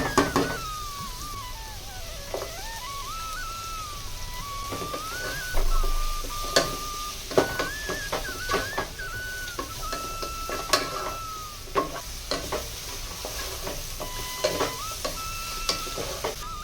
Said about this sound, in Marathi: चिरलेला कांदा आणि गाजर घालून घेऊयात आता हे सगळे जिन्नस छान एक सात ते आठ मिनिट परतून घ्यायचे यावेळेस गॅस मोठा ठेवायचा